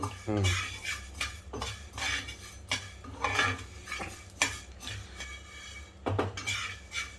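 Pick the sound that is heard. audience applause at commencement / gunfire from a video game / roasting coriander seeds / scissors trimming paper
roasting coriander seeds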